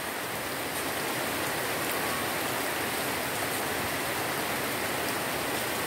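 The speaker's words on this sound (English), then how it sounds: "it's raining here." Steady, dense rain hiss fills the air, constant and close without pauses.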